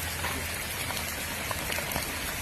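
Heavy rain pours outside a district collector's office, making a dense, even hiss of falling water with a few sharper drop taps, steady and fairly close, with no voices.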